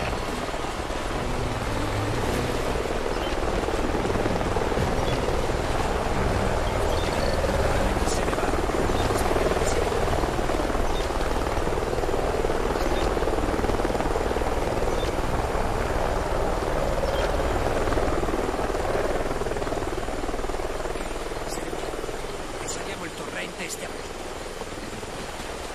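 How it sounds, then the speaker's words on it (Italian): A helicopter in the Call of Duty: Ghosts video game thuds and whirs continuously at a steady middle distance, its rotor drone carrying throughout and easing off slightly near the end. "L'elicottero ci aspetta al varco. Lo sento, ma queste gole non fanno per lui."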